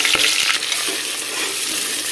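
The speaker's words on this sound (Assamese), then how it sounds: "এতিয়া পিয়াজখিনি গোল্ডেন ব্ৰাউন হোৱালৈকে ভাজি লম" Onions sizzle loudly in hot oil in a pressure cooker, a dense, crackling fry with a couple of soft stirring knocks near the start.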